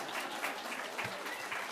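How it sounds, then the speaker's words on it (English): An audience at a conscious eating conference applauds, producing a dense, even stretch of clapping that sounds moderately distant. "Let's give a round of applause to the lesbians."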